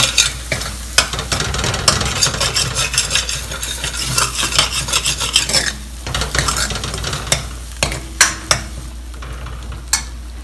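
Ingredients tumble into a frying aloo tamatar curry mixture of potatoes and tomatoes, followed by sizzling and a spoon stirring and scraping the pan with sharp metallic taps.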